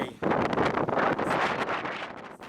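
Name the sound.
strong Meltemi wind while sailing off Kythira, Greece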